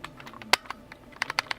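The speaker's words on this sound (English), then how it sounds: "That is the sound of a key not working." Keys on an IBM Model F keyboard with a faulty key that fails to register, pressed during a cleaning and rebuild: a quick scatter of sharp, close clacks, one especially loud strike followed by a rapid burst of presses.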